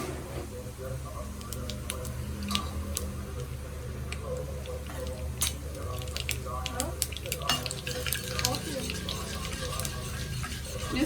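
Mustard seeds and cumin splutter in hot oil, a dense run of small sharp pops and ticks over a low steady sizzle, close up and gradually busier.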